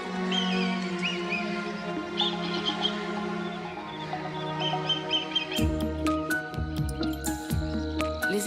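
Birds calling around the Brenne ponds in France, a wetland of man-made fish ponds, with a dense chorus of chirps and calls over a steady low drone, joined later by louder, deeper repeated croaking notes close by.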